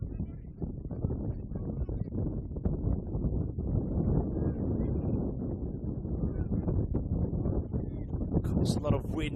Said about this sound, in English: A lot of wind here today